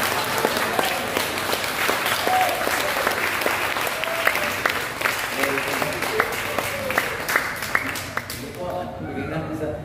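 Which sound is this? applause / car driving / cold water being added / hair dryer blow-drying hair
applause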